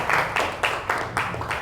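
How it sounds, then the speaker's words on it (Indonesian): Classroom audience clapping for a student group, a broad burst of applause pulsing in quick waves for about a second and a half, close and fairly loud, with no talk over it. "Kasih tepuk tangan buat kelompok 2 sama kelompok"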